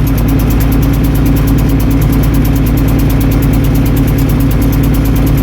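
A 1978 International Harvester 1586 tractor idles after a cold start, its engine a loud, close, steady low rumble with even rhythmic pulsing and vibration throughout.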